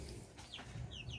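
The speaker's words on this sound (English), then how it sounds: "Check on the chickens." Chickens in an undersized brooder cluck softly and intermittently over a low background hum, with a few higher chirps near the end.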